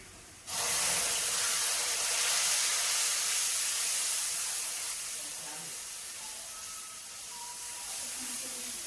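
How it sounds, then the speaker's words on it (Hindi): A masala of red chili, turmeric and salt starts frying in a pan for chole, bursting into a loud, steady sizzle that eases slightly toward the end, with a voice faintly audible. "तो अब मैं ये मसाला भूनने दूंगी"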